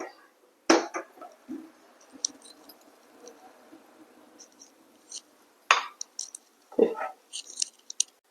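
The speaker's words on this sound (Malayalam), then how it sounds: "ഇനി നമുക്ക് ഇതൊരു അരിപ്പയിലൂടെ അരിച്ച് മാറ്റി വയ്ക്കാം." Metal utensils clink sharply against a sieve and bowl a few separate times while tender coconut pudding mixture is strained, with long quiet gaps and soft handling noises between.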